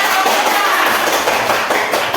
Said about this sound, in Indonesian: kita tepuk tangan kepada Lucia.